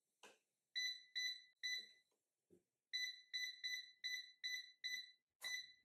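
An air fryer beeping as its time and temperature are set: a series of short, clear electronic beeps, mostly in quick even steps, with a few soft clicks between and a final louder tone, close and alone.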